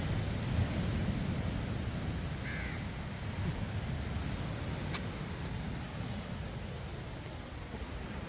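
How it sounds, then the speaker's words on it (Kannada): Morning sea waves break on the beach at Kundapura, a steady low wash of surf rolling in, with a crow cawing briefly in the distance. "ಅಲೆಗಳು ಬರ್ತಾಯಿದೆ ಬೆಳಗ್ಗೆನೇ"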